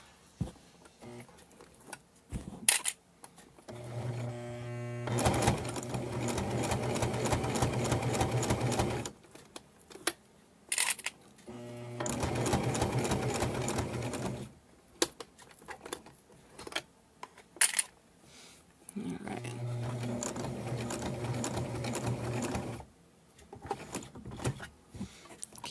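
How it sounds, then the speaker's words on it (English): Sewing machine stitching along the edge of a fabric hot pad, three long runs of fast rhythmic needle whirring separated by pauses with small handling clicks, close and clear. "Trying to sew off there on the edge."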